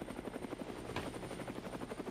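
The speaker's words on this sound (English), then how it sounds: "Why do I hear a helicopter?" A helicopter in the Brick Rigs video game chops rhythmically, a fast steady rotor beat heard fairly faint and alone, with no voices.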